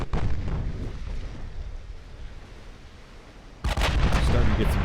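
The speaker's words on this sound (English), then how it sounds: "I've got 3 ships firing on him." Fifteen-inch guns of US battleships fire in the naval game Ultimate Admiral: Dreadnoughts, a low rumbling salvo fading away before a sharp, loud boom bursts in and keeps roaring.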